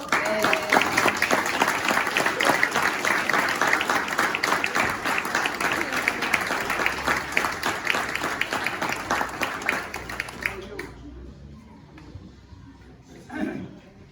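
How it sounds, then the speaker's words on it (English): Sustained applause from a crowd at the ribbon cutting for Dustin's Adventureland, honoring an award recipient. Dense clapping runs about ten seconds before fading into quieter room noise with a short late burst. "we could have a big round of applause for Jeff."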